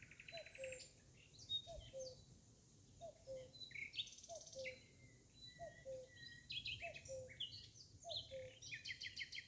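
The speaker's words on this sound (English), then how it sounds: "Birdsong begins. First one note, then many." Birdsong at first light, with one bird repeating a short whistled phrase at a steady pace while other birds chirp and trill higher up, all faint and distant over a quiet background hum.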